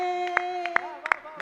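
Scattered hand claps from an audience at a Hindi poetry recital, a kavi sammelan, a few distinct sharp claps in loose rhythm over a sustained tonal hum and a voice.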